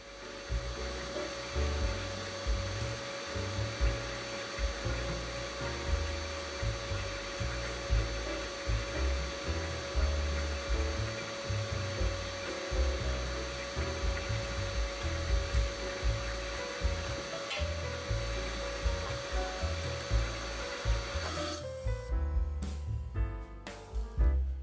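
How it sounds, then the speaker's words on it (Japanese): A lathe turns steadily while cutting the short threaded section of a steam locomotive reverser linkage, a continuous mechanical whir with a rhythmic low chatter, ending with a few clattering knocks as the machine is stopped or handled. "旋盤に移り、短い方のネジ部分を加工していきます。"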